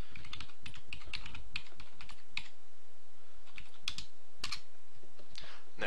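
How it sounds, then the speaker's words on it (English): Someone types an IP address on a Windows computer keyboard: quick, uneven bursts of close key clicks with short pauses between runs, no talking. "we're going to type the IP address that we've set"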